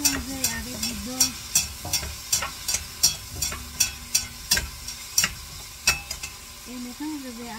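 Cauliflower and eggs are stirred with butter in a pan: a spatula scrapes in a steady, repeated rhythm over a constant sizzle, close and fairly loud, with a faint tonal hum underneath.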